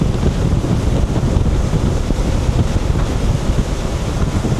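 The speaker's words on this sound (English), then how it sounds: "It's freaking windy." Strong gusty wind buffets the microphone aboard a boat on the Intracoastal Waterway near Adams Creek, a loud constant roar mixed with water rush and no voices.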